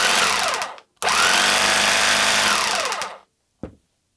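A Ramset Dyna Drill rotary hammer drill, just repaired, whirs loudly in two bursts, a short start then a steady run of about two seconds, followed by a brief final blip.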